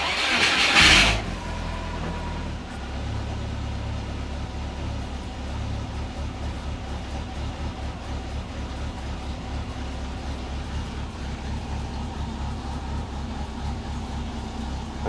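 A car engine starts with a loud burst of cranking, then settles into a steady, even idle, low and continuous for the rest of the clip, with no one speaking.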